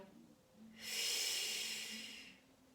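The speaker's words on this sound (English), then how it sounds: "Inhale. Exhale." A single long breath during a stretching exercise sounds as a soft, close airy hiss that swells, holds for about a second and a half, then fades, with a faint low hum beneath.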